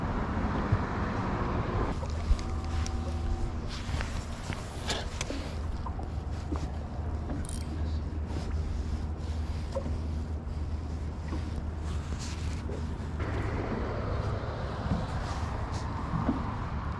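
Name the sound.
wind blowing on a lake while bass fishing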